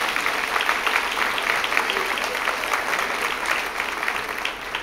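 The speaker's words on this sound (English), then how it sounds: "I would invite you to have a round of applause for your neighbor" An evening public-debate audience gives a steady, close round of applause that lasts nearly five seconds, dense and even throughout with no talk over it.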